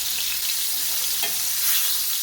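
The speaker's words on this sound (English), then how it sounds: "when I'm frying my fish, I make sure I use good quality oil" Continuous crackling sizzle of king fish steaks frying in hot oil, close up and steady, with no voices.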